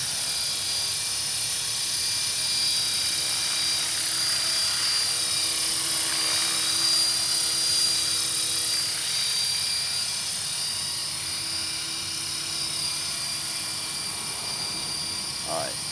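A helicopter hovers nearby with a steady, loud rotor and turbine drone that holds constant throughout, with no talk over it.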